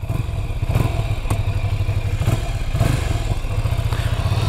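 A 2023 Ducati Scrambler's air-cooled engine runs loud and close, with a rough, throbbing low rumble and a few sharp revs rising over the steady drone.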